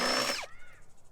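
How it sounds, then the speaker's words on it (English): A power drill with a 7/16 drill bit bores through a Jeep Wrangler JLU body panel, a loud high whine that cuts off abruptly and winds down, followed by quiet clatter. "used that 7/16 drill bit to go ahead and drill out just those upper holes"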